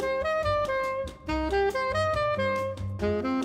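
A saxophone runs through a flowing jazz phrase over the first eight bars of a tune, with steady bass and chord backing, notes moving smoothly up and down without pause.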